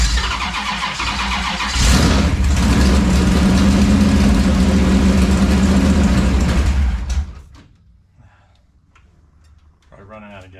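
A 1971 Plymouth Duster big-block V8 with a locked-out distributor runs loud and rough for about seven seconds, then cuts out to near silence, with a faint sound returning at the end.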